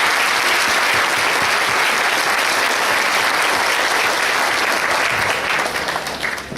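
Loud, sustained applause from an audience at an organ donation golf fundraiser, a dense wash of clapping that holds steady throughout before easing slightly at the end.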